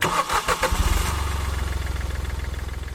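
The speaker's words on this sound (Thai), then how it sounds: "การสตาร์ทเครื่องยนต์โดยไม่ใช้ลูกกุญแจ" A Yamaha XSR155 motorcycle engine, started by remote, cranks and catches, then settles into a steady, pulsing idle, loud and close with no voices.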